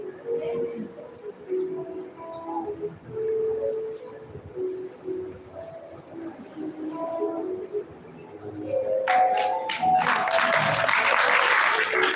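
Loud, sustained applause from a Bhagavat katha gathering in a village breaks out after a stretch of hymn-like singing and music and continues to the end.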